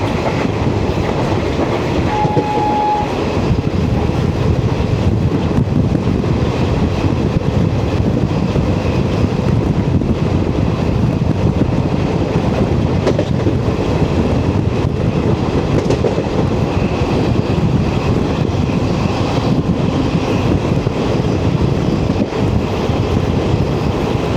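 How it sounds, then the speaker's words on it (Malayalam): The Jan Shatabdi Express runs through Kuttippuram station, a steady, loud rumble of rail cars with a faint clickety-clack, plus wind buffeting the microphone throughout. "കുറ്റിപ്പുറം സ്റ്റേഷൻ വഴിയുള്ള റൺ ത്രൂ ആണ്."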